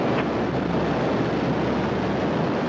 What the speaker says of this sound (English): TMA-14M launched atop a Soyuz FG carrier rocket from Site 15 at the Baikonur Cosmodrome.